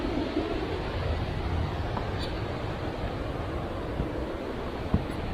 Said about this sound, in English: Some of those waves just give you a thrill when you hear it behind you.